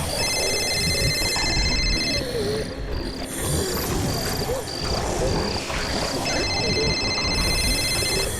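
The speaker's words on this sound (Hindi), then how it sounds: "फोन की आवाज" A phone rings electronically in two bursts, one at the start and one at the end, with short beeps between them, over a busy, noisy background.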